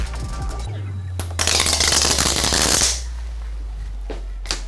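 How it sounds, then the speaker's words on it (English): Small protective foam strips peel away in a burst of close, crackly ripping lasting a second or two, then quiet returns. "And now we're just gonna take these 2 protective strips off of here. These are just little foam pieces, and those will peel right off."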